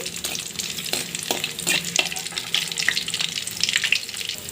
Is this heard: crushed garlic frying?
yes